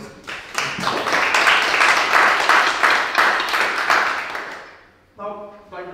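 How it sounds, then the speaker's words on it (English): Audience applause at an academic conference on 21st-century literature and the Holocaust in Lublin, a dense burst of clapping that swells for about four seconds, fades out, then gives way to a speaking voice. "So please join me in a round of applause for your Grodzkiej."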